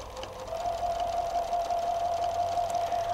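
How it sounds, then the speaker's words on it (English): A sewing machine stitches a quarter inch seam on log cabin quilt blocks, a steady close-up mechanical whir running without a break, alone in the room. "Sew your accurate quarter inch seam."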